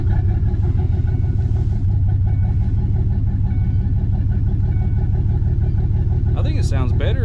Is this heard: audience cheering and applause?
no